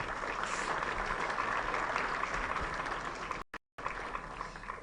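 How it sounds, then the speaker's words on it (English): Sustained applause from a crowd, steady and full, cutting out abruptly for a moment near the end before resuming. "Let's give the siblings a round of applause."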